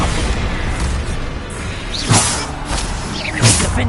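Bombarda explosion spells cast in Hogwarts Legacy combat: two sharp booming blasts with whooshing swishes, the second a few seconds after the first, over a busy background of battle noise.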